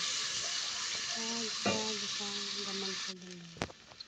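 Onion and garlic sauté in a pan for an Arabic chicken maqluba, a steady broadband sizzle with faint background tones and a few utensil knocks near the end.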